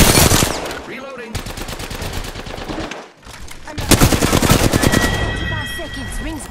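Automatic weapon fire in the Apex Legends video game, sustained bursts of rapid shots that break off briefly, then resume loud and close, with small game effects mixed in.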